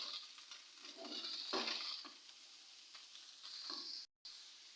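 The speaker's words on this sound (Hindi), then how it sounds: "दो मिनट हो चुके हैं फ्राई होते चिकन को।" Chicken and carrots fry in a pan and are stirred, giving a steady close sizzle with scraping stirs throughout and a brief cut-out near the end.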